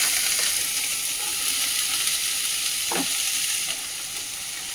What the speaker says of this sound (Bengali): এইদিকে যে সবজিটা দিয়ে একটু নাড়াচাড়া করছে, আর গ্যাসের আঁচটা একদম ফাস্ট করে রেখেছে